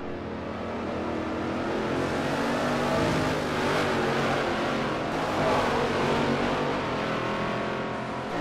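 V8 Supercar race car engines roar in Forza Motorsport 4, a loud sustained blare of several cars revving and accelerating together, rising slightly midway and holding steady with no voices.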